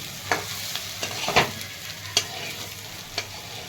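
Okra frying in a pan, a soft steady sizzle under a few sharp scrapes and taps of a spatula stirring it, close and alone.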